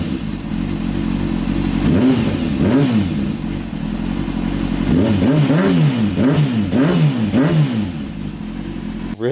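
Motorcycle engine running smoothly after new coil packs and spark plugs were fitted, a steady close idle broken by several quick throttle blips and revs, no talking.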